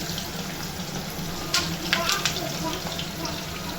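Thick fish pieces frying in a pan, giving a steady close sizzle with a few sharper spits and crackles, under a kitchen chimney hum.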